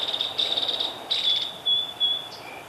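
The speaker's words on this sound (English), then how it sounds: "I've been hearing some birds and seeing a few birds here and there." Birds calling in the California foothills wilderness, a few high thin chirping phrases repeated in short bursts, fairly clear against quiet outdoor background.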